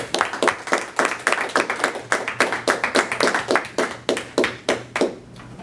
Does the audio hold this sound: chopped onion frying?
no